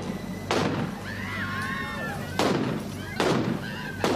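Colt revolvers fire in a staged Tombstone gunfight. Four loud, sharp shots ring out at uneven intervals, each with a short echo, over dramatic background music.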